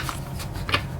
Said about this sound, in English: we have cards that don't want to shuffle